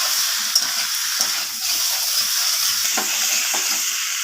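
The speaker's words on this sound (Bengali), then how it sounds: "আলুটাকে সব কিছু মশলার সাথে এইভাবে একটু সময় নিয়ে কষিয়ে নিতে" Potatoes being sautéed with spices in a pan for a vegetarian aloo dum, giving a steady close sizzle and hiss with occasional stirring scrapes throughout, no voices.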